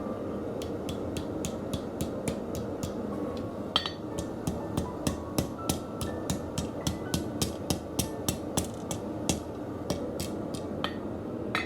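Hammer blows on hot steel at an anvil while forging the socket of an arrowhead, a fast, even run of ringing metallic strikes, close and loud, quickening and growing sharper toward the end, with no speech.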